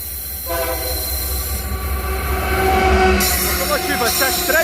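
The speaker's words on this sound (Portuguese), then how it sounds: "Vamos gravar uma composição da MRS, passando ao lado da Cachoeira da Copasa." An MRS freight train of empty wagons passes beside a waterfall near Antônio Carlos, Brazil, its horn sounding loudly over the heavy rumble of rolling cars, with shrill wheel squeal rising toward the end.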